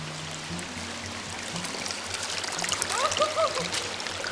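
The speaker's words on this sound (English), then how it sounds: "release the plug and let the water just rip through the trench that we created" Water released from a plug rushes through a freshly dug trench beside a camp, a steady outdoor wash of flowing, trickling water with faint voices and a few high chirps in the background.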